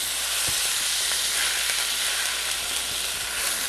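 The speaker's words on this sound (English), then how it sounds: "we're just going to let sit and boil like that for a moment" Liquid for chicken piccata bubbling hard in a hot pan, a steady close hiss and sizzle with scattered small pops throughout, no voices.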